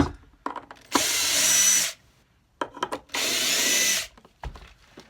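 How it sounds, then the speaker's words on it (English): Power drill or driver unscrewing the two rear screws holding the neck of a cigar box guitar kit, two separate loud whirring bursts of about a second each with faint clicks and handling noise between. "if you want to take the neck off, right, you just unscrew these 2 from the back"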